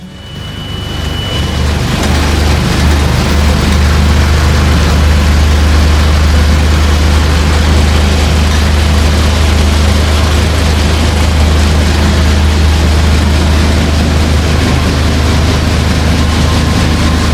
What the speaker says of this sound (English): We did run the extremely loud engine for a couple of minutes